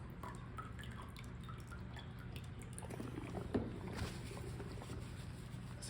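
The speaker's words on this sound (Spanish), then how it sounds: "enjuagamos nuevamente con abundante agua la punta de nuestro electrodo" Water rinses the tip of a pH electrode in a lab, heard as soft drips and trickles over a steady low background hum, with a small splash partway through.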